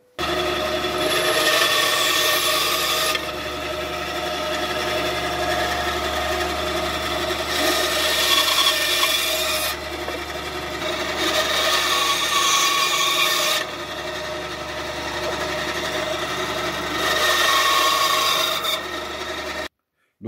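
Turned wooden Easter eggs being cut, a rasping, sawing scrape in several long strokes separated by brief pauses, loud and close with no talking.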